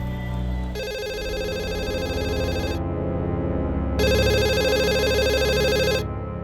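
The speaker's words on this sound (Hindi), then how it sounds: "लैंडलाइन पे फोन लगाओ।" A landline telephone rings in two long electronic bursts, loud and close, with a pause between them over a low indoor background.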